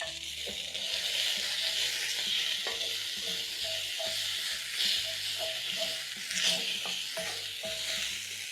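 Minced garlic and a chopped onion sauté in cooking oil in a pan, giving a steady close sizzle with occasional stirring scrapes throughout, with no talking.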